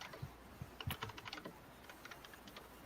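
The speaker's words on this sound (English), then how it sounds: "Me typing in this hop to look it up on the internet" Computer keyboard typing, a quick run of close, quiet key clicks in irregular bursts that thin out toward the end, heard alone in a quiet room.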